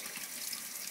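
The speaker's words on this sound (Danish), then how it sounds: "Så tager vi lige noget koldt vand." Cold water runs steadily from a tap over a hand, a constant close hiss without talk.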